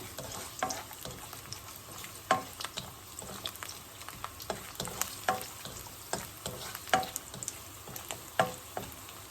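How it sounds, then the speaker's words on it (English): Garlic roasting in a hot pan, a low continuous sizzle broken by frequent soft scraping and stirring knocks of a utensil, fairly close and quiet. "now first goes the garlic here. Just to roast a little bit of garlic."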